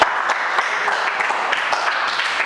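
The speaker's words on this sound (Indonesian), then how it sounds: "Tepuk tangan." A classroom of students claps their hands together, producing a fast, uneven patter of many close claps at an even moderate level throughout.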